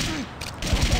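Gunfire in the shooter game Blood 2: The Chosen: a rapid, dense burst of shots, loud and close, with a voice talking over it.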